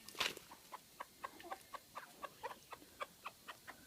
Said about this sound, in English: Chickens, chickens, chickens, chickens.